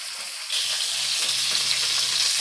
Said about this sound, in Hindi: दो बार में अच्छे से फ्राई हो जाएगा ये।